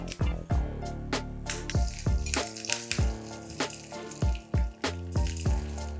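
Dry red chilies and curry leaves sautéing in hot oil for a tadka, a steady sizzle broken by repeated sharp clinks and stirring knocks of a spoon against the pan in an uneven rhythm.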